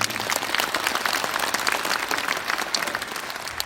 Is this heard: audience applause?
yes